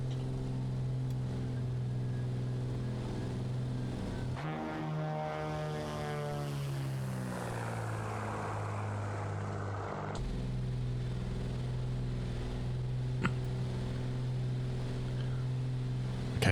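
A Black Square Commander 114 single-engine propeller plane takes off in Microsoft Flight Simulator 2024: a steady engine drone swells into a rising, roaring prop whine at full power, then settles back to a constant hum, with no talking.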